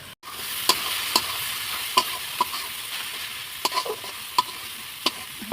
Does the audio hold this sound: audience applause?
no